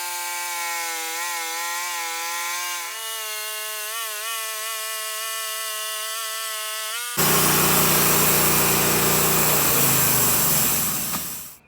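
Sawmill engine whining at a steady pitch, then its blade biting into a large black walnut log with a loud, harsh ripping roar that holds for several seconds before it fades. Close and loud, with no voices.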